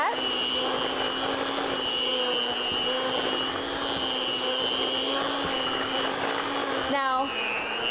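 Electric mixer beating pound cake batter, a steady whirring motor hum running continuously throughout, with a brief shift in pitch near the end.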